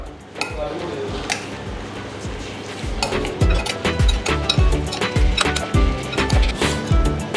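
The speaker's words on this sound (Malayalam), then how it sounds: "ഇനി നമുക്ക് നമ്മുടെ മസാലയും ചിക്കനും എല്ലാം നന്നായി ഒന്ന് മിക്സ് ആക്കി എടുക്കാം" Chicken is stirred and mixed with masala spice paste in a pot, giving continuous scraping, squelching and clanking strokes of a spoon against the vessel, close and fairly loud.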